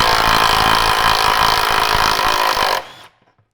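A power tool whirs steadily and loudly at close range for nearly three seconds while undoing bolts holding up a charcoal canister on a 200 Series, then stops abruptly and leaves near silence.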